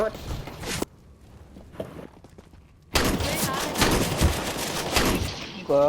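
Gunfire in the video game CS:GO: sharp bursts of rapid shots and clattering fusillades, loud and close, breaking a quieter lull with footsteps, while players talk over the action.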